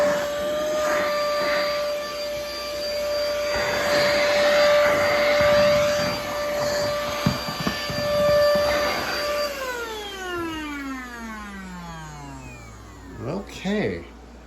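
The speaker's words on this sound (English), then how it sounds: "it's good for getting dust off the baseboards and stuff too" Siumxr handheld vacuum cleaning baseboards, a steady high-pitched motor whine running for several seconds with a person talking over it, then the pitch drops as it powers down.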